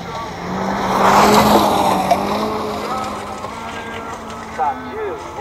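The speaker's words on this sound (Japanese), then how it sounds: "16号車スタート、田中秀和選手のミラージュがスタート" A Mitsubishi Mirage rally car, number 16, launches from the start line: its engine revs up and swells loudly, then fades as it pulls away, with a commentator talking over it.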